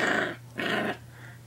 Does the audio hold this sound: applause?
no